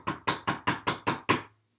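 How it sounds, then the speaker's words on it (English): Seven loud, evenly spaced knocks on a door rapped in steady rhythm, each sharp and close, ending abruptly with a brief silence. "She knocked loudly."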